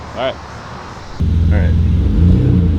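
A BMW E28 M5 engine cranks and fires up, settling into a steady low rumbling idle after a brief silence, with a person talking faintly before and over it.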